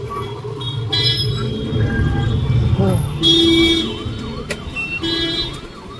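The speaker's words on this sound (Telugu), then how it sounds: "అంబులెన్స్ వస్తుంది." An ambulance siren wails through city traffic, its rising and falling tone surfacing faintly amid road rumble and engine noise while people talk over it from a moving vehicle.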